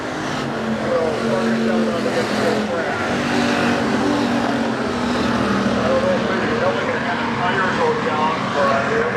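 Hobby stock race cars roar around Nobles County Speedway in Worthington, a dense continuous wall of engine noise from several cars running close together, loud and steady throughout with a race announcer talking over it.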